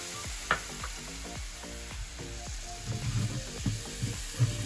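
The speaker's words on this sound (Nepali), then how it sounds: "अब यो टमाटर राखेपछि राम्रोसँगले चलाएर टमाटर गलुन्जेलसम्म पकाउनु पर्छ" Chopped tomatoes frying in a pan for goat feet broth, a soft continuous sizzle with a quick series of scraping, clinking stirs from a utensil against the pan, close and fairly quiet, with no talking.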